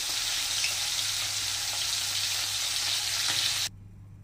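Khoira hilsa fish fry in hot oil in a kadai, giving a loud, dense, continuous sizzle that stops abruptly near the end.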